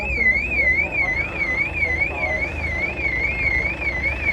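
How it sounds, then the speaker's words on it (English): A car alarm wails in a steady looping warble, continuous and moderately distant over faint background noise, at an outdoor classic car show. "someone's alarm has decided to go off"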